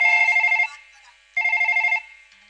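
A telephone rings loudly and close by in two bursts of electronic trilling separated by a short gap, heard on its own during a comic folk stage performance.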